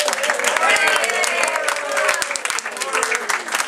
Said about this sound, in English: we should give a big round of applause to our technical expert back behind you there, which is Oryx Smith.